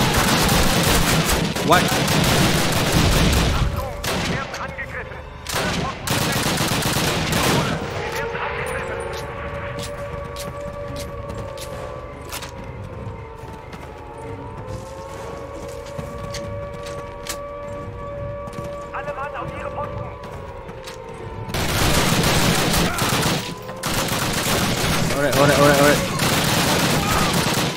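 Shotgun blasts and rapid gunfire in a Call of Duty game, dense loud volleys at the start and end with a quieter stretch of a droning tone between, and voices speaking now and then.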